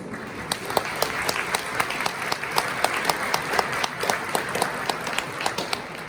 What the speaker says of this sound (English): Why don't you give a round of applause to our many co-sponsors.